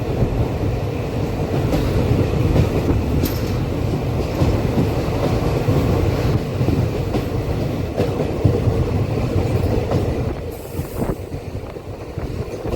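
A new passenger train on the Guntakal–Markapur line runs steadily, its loud, continuous rumble and clatter heard from inside with a faint rhythmic clack of wheels on rails, and no talk.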